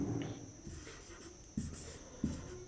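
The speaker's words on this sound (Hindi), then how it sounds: "तो लिखेंगे फटाफट" Pen writing quickly on paper, a close, quiet scratching with a few sharper taps of the pen, steady and unaccompanied by speech.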